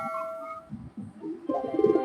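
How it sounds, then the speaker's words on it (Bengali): A pet pigeon coos close by in soft, low, throaty bursts, alone and fairly clear over a quiet background with a brief faint tone at the start. "আমার মানে খুব শখের একটা কবুতর।"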